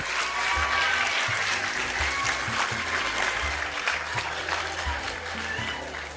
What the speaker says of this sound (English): I think you need to clap for this award.